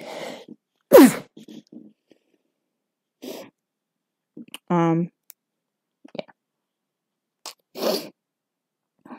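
Several sharp sneezes burst out at intervals, separated by silence, with a brief spoken word and a short squeaky creak in between, close and loud in a quiet room.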